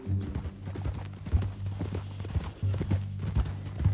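Horse hooves clip-clop in Red Dead Redemption 2, a steady close walking rhythm of distinct thuds with a faint snort or whinny mixed in, no talk over it.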